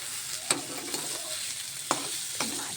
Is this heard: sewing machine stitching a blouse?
no